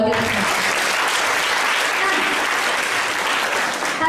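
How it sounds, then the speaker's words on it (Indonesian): Audience clapping fills the whole stretch as a dense, steady applause from a crowd at an indoor motivational talk session, loud and continuous without any break. "tepuk tangan dulu buat kita semua."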